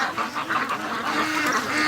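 Free-range ducks in a backyard quack loudly and close by, a run of raspy, overlapping calls continuing without pause and with no talk.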